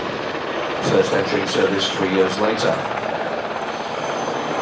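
A Mi-171Sh Hippo military combat-transport helicopter gives off a steady, loud rotor and turbine drone that holds throughout, heard under a narrator's voice.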